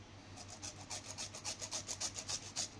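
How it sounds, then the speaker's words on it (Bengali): A gondhoraj lime is grated for zest, giving a quick run of about a dozen rhythmic, scratchy rasping strokes, close and quiet, with no talking. "তো বন্ধু দেখো আমি কি করে ঘষে নিচ্ছি লেবুটা"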